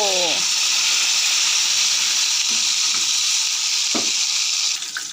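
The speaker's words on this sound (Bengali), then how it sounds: "লোটে মাছের চপ ভাজা হয়ে গেল" Fish cutlets sizzle and crackle steadily in oil throughout, a loud continuous frying hiss with a few clinks near the end.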